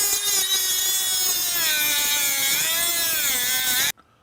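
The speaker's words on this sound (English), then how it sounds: "we cut just this little piece of square stock out of there" A continuous sawing or grinding cut through a small piece of square stock on an archery bow, steady and loud with a slowly shifting whine, stopping abruptly near the end.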